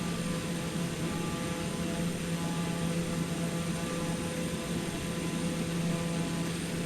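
Steady drone of a light airplane flying in Microsoft Flight Simulator 2020, a continuous even engine and airflow hum with a low tonal line, holding at a constant level throughout with no talk.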